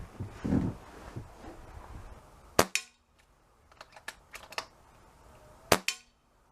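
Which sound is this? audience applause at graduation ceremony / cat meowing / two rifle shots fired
two rifle shots fired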